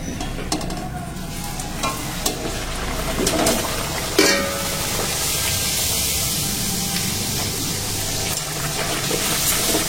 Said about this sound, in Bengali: আর এইদিকে এখন লুচিগুলো ভাজা হচ্ছে।